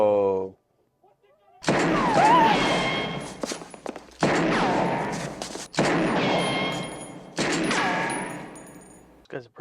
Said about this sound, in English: How many shots is that now that he fired so far?